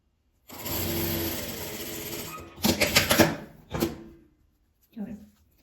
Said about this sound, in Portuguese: aqui eu costuro tudo com um pezinho de máquina